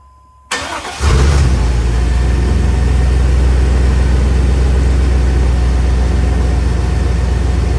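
A car engine cranks and catches after half a second, then settles into a steady, loud idle while the transmission and engine cooler lines are being bled, with the fan blade exposed.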